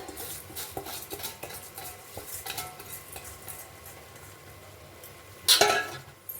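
Rice being stirred in a pot for fenugreek leaf pulao, soft scraping and light clinks of a spoon against metal over a faint sizzle, ending in one sharp louder clank near the close.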